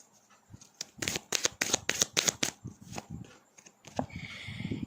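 Oracle angel cards for a tarot reading being shuffled by hand: a run of crisp, riffling card flicks in quick bursts, close and clear, with a few softer slides and taps after them.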